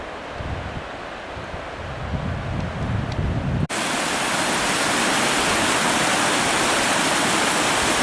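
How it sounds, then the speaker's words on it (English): A stream of glacial meltwater from snowfields rushes loudly and continuously, a dense hiss that grows sharply brighter and fuller partway through as the microphone nears the flow. "All this nice fresh water coming down from that snow up there, which is obviously melting away vigorously."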